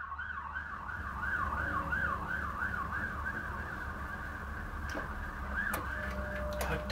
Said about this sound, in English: Bloody sirens